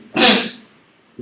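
A single loud, close sneeze bursts out, followed by quiet.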